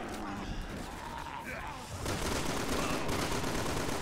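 Rapid bursts of gunfire from the video game Resident Evil 6 play loudly and continuously, growing denser and heavier partway through, with chatter from players underneath.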